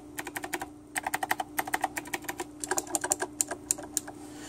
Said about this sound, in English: But it is a typewriter style mechanical keyboard.